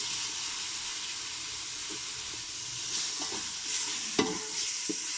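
Ground tomato paste added to a hot frying pan and stirred, a constant loud sizzle and hiss with occasional sharp scrapes and clacks of a spoon against the pan, close and without talk.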